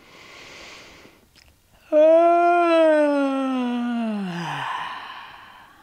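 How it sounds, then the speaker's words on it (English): A breathy inhale, then a long, loud, exaggerated yawn, voiced and sliding downward in pitch before trailing off into a breathy exhale. "which is a nice big yawn"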